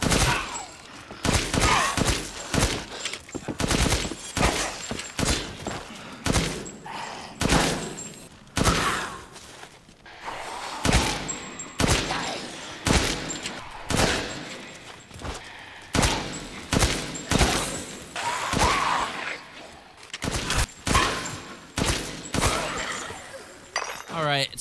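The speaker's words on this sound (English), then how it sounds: "takes around 4, maybe 5 shots from the Dragoon to take down a Mora Ica" The Dragoon machine gun in the Resident Evil Village video game fires at Mora Ica enemies. Loud, sharp shots come in rapid rhythmic bursts and repeated clusters, with brief pauses, throughout.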